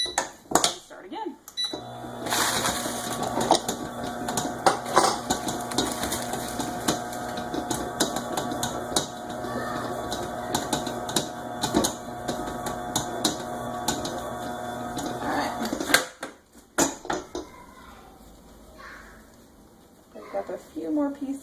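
A stand mixer's paddle churns pie crust dough with a loud, steady mechanical whir and rattling for about fifteen seconds before stopping, then quieter handling noises follow, with a person talking throughout.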